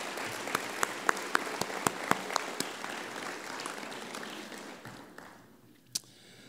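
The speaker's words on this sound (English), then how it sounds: "Please give yourselves a big round of applause." Applause from an audience at a city mayor's State of the City address, a broad wash of clapping with a few sharper close claps standing out, thinning and fading toward the end.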